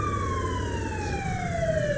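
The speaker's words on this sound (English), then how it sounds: "turn on my lights, turn on our siren" A police car siren in the Roblox video game wails loudly and continuously, its tone sliding steadily downward with no speech over it.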